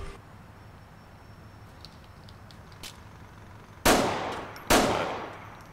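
Two sharp gunshots from a suspect firing during an LCPDFR police patrol game, ringing out close and loud a little under a second apart after a stretch of quiet ambient hum.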